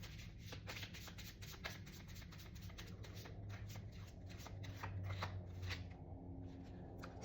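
Oracle cards being shuffled and drawn, soft papery riffles and slides at close range, quiet and alone.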